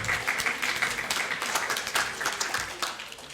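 An audience at a French agricultural research conference applauds to welcome a speaker, sustained crowd clapping of even intensity throughout.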